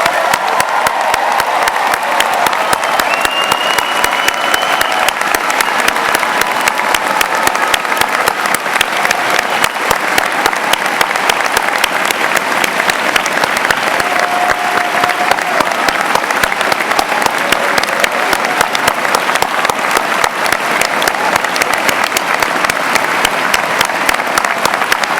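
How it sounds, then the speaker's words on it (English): At a college of osteopathic medicine hooding ceremony, a large audience applauds the new doctors of the class of 2017 with long, loud, sustained clapping. Scattered cheers and whoops rise over the crowd now and then. "Let's have a round of applause."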